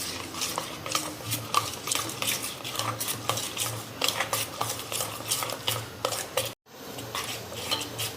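Dhokla batter is stirred in a bowl with a spoon, giving rapid rhythmic scraping and clinking strokes, close and fairly loud, with a brief pause near the end and no talk.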